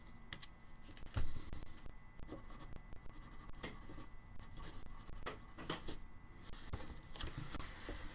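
A 2B graphite pencil signs a finished drawing on paper, making close, continuous scratchy strokes with quick lifts and short flicks, and no talking.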